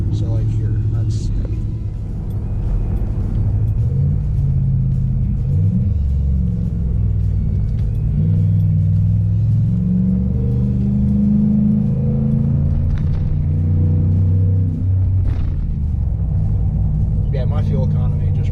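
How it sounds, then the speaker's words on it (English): A pickup truck with a cheap homemade exhaust downshifts with rev matching, a loud low rumble that rises and falls through several engine surges. Someone talks over it throughout. "when you do a downshift, it sounds awesome."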